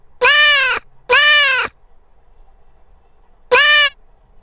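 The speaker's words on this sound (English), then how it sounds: "And let's just choose Meow 2." The Scratch library cat sound effect "Meow 2" plays three times, two clear, tonal meows close together and a third after a pause, loud and clean with near silence between.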